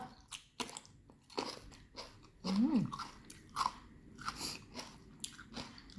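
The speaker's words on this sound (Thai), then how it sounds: "ขออนุญาตกัดแต่งก่อนเด้อค่ะเด้อ" Close, quiet bites and crunching chews of cucumber eaten by hand with a spicy Isan bamboo shoot salad, coming in irregular bursts with brief pauses and no talking.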